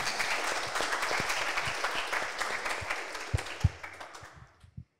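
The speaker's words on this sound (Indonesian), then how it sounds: "Sekali lagi tepuk tangan untuk Andi Pratama." An audience at an Indonesian preaching competition claps for a contestant, a broad sustained round of applause that thins out toward the end with a few last scattered claps before silence.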